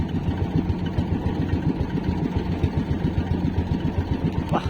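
A boat engine idles at the Navotas fishport, a steady low rhythmic chugging that runs nearby and unbroken throughout, with no voices over it.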